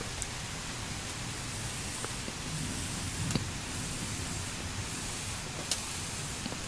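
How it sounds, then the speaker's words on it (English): Steady morning rain falls continuously as a dense, even hiss with occasional louder drips and taps, moderately loud and unbroken, with no talk. "It's actually raining decently."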